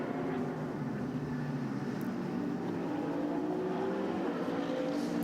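A race car circulating on the Nürburgring during 12-hour qualifying, a steady distant engine drone with faint tonal whine holding at moderate level throughout, no voices over it.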